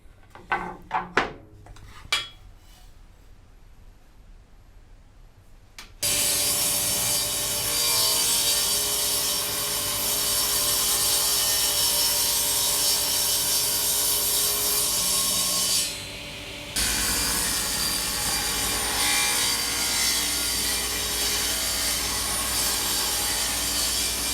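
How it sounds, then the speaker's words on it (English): Power saw trimming macadamia wood boards: after a few sparse knocks, a loud, steady cutting drone runs for most of the clip, broken by one brief pause partway through. "Just trimmed those boards down to get a really nice"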